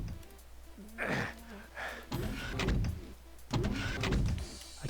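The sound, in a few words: lift lowering in a Doom map, video game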